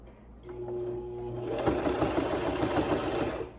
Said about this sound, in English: I'm just gonna sew straight